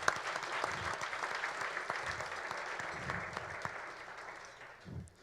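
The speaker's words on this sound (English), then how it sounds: "I would like to give a round of applause to these three gentlemen." An audience applauds three scholar athletes at an award event, a steady, dense clapping that holds for about five seconds and then tapers off near the end.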